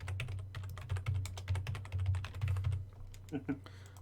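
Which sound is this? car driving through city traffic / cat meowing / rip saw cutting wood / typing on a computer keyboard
typing on a computer keyboard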